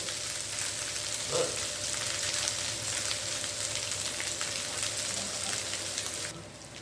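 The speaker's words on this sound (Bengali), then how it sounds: "এই আলু সেদ্ধগুলো আমি দিয়ে দিচ্ছি" Boiled potatoes fry with coriander powder in a pan, giving a continuous close sizzle with faint crackles throughout that drops in level near the end; no one speaks.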